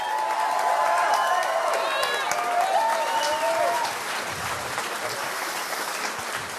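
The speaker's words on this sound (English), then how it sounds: "They're clapping about Obamacare." Young kids at a political town hall event in Rothschild, Wisconsin clap and cheer loudly, with sustained applause, whoops and high excited shouts from a large crowd that gradually eases slightly toward the end.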